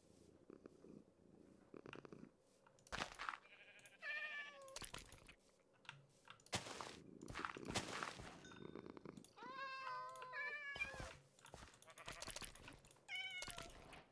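Minecraft cats purring and meowing while being led, scattered bursts of rough purring broken by sharp clicks, with a few rising, wavering meows mixed in and keyboard taps between.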